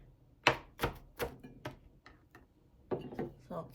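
A knife rough-cutting vegetables on a board for empanada filling at home, making a handful of close, crisp chops in an uneven rhythm with short pauses between them.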